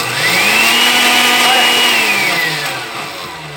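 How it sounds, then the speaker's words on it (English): A kitchen blender runs on high while blending Haitian spice, a loud steady whirring roar whose pitch rises and then sinks as the blades labor, close up and without talk. "Now I'm gonna put the blender on high."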